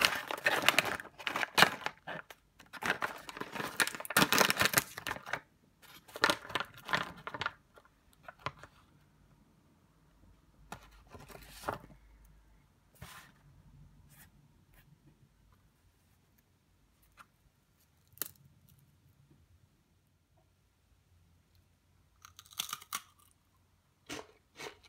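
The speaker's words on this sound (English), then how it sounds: "So those of you that hate the sound of somebody crunching and chewing" Zero-carb cheese crisps are crunched and chewed close up, with dense loud crunching bursts over the first several seconds that thin out into sparse, quieter chews and clicks.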